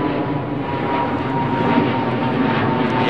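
Steady, loud roar of a jet airliner on departure at London Heathrow's runway 09R, a continuous broadband engine noise that holds level for a few seconds with no voices.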